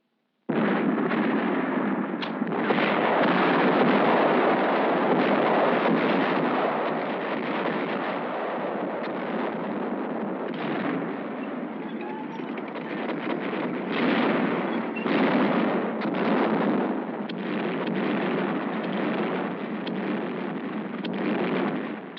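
Continuous heavy rumble of bombs bursting during a World War II B-17 Flying Fortress bombing raid on Germany, from wartime documentary film; a dense, loud, unbroken roar of explosions with no voices.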